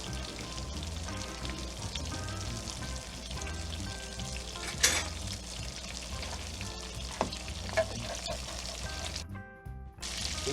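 Monte Cristo sandwiches fry in a pan, giving a constant crackling sizzle close up with a few small clatters and a brief quieter gap near the end.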